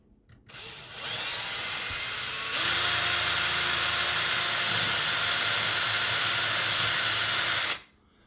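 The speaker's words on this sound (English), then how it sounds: "So now I'm going to drill a pilot hole first" A power drill whirs up and runs at a steady high pitch for several seconds drilling a pilot hole for a curtain rod, loud and close, then stops abruptly.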